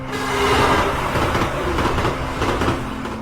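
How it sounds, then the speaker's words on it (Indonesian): A train arrives at a station, rumbling and clattering past at close range, with a steady horn drone running through the noise; no voices. "gerbong kereta yang datang dengan klakson"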